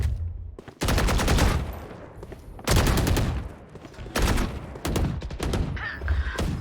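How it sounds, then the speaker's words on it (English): Gunfire in a Valorant match, dense bursts of rapid shots in several separate volleys with short gaps between, loud and close, no voices. "Plenty of shots getting fired out."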